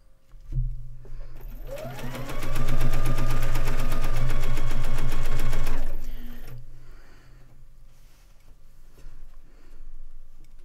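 A sewing machine stitching a dog bed runs loud and close in one steady rapid burst of about four seconds, starting after a click, rising quickly and then stopping, followed by quieter handling sounds.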